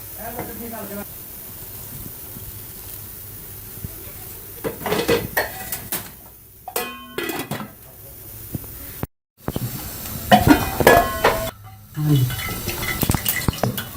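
A utensil scrapes and clanks against a pot while meat and kachnar buds for kachnar gosht sizzle and hiss, with a few brief pauses and a voice speaking now and then.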